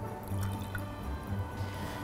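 Vinegar poured into a sauce of garlic, fish sauce and sugar makes a faint, close trickling drip that runs for a couple of seconds with no voices.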